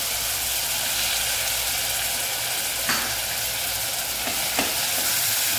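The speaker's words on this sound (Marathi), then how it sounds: "त्यात टाकूया कांदा," Chopped onion frying in hot oil in a pan for a vegetable pulao, giving a continuous bright, close sizzle with a couple of brief stirring scrapes.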